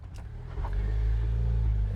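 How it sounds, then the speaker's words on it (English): A Jeep engine rumbles low and close, climbing into a sustained rev as the vehicle crawls up onto a large boulder on the rocky Red Cone Pass trail in Colorado. "I'm actually going to drive on top of a pretty big boulder on the left side near the end of this right here"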